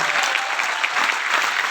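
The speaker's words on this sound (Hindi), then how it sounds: "बढ़िया से ताली बजाएंगे।" Audience applause at a corporate partner event, a steady dense wash of clapping from a crowd that holds at a loud, even level throughout with no other sounds on top.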